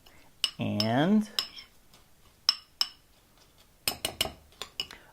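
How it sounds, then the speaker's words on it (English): A spoon stirs milk poured over cereal in a bowl, making a burst of swirling clatter and then scattered close clinks and taps against the dish, with a single short spoken word. "Now, you'll need to give this a stir and make sure everything gets quite saturated"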